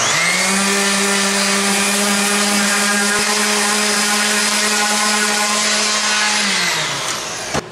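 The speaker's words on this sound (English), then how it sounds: "I'm going to have to go ahead and sand that" A power tool sands down wood tear-out on a homemade wooden drill press table, giving a loud, steady motorized whine that runs continuously for several seconds before winding down near the end.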